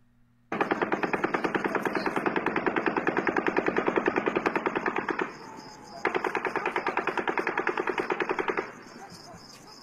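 Sustained bursts of rapid automatic gunfire recorded at a distance, two long strings of evenly spaced shots separated by a brief pause, harsh and echoing with no voices over it.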